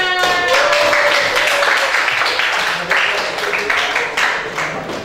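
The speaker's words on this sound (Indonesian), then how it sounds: "Oke, Mas Alfian beri tepuk tangan." Classroom applause from students at a vocational high school, a burst of scattered hand clapping mixed with lively chatter and a sustained tone at the start, fairly loud and close, tapering slightly toward the end.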